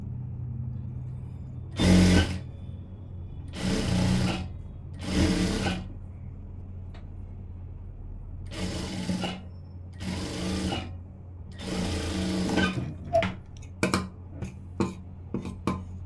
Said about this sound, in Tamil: இப்போ இப்படி திருப்பிட்டு லைனிங்கில் ஓரமாக தையல் போட்டுக்கலாம்.